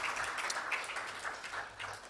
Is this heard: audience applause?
yes